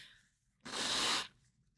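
A single short, breathy sneeze bursts out once, fairly close, in an otherwise quiet moment.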